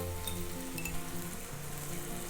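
Tomatoes sautéing in a pan for a tiffin-box dish, a soft, steady sizzle with light stirring and a few faint utensil clinks, fairly quiet and without speech.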